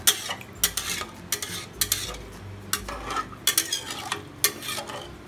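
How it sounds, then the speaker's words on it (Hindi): A spoon stirs rice and water for jeera rice in a pot, giving a dozen or so sharp scraping clinks in an uneven rhythm over a soft watery swish, close and alone. "इसे इसी तरीके से धीरे धीरे चला दीजिए।"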